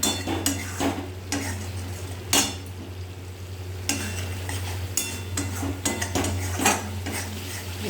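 Masala paste with mustard frying in oil in a pan, stirred with a metal spoon that clinks and scrapes in a steady rhythm of several strokes against a continuous low hum, close and moderately loud.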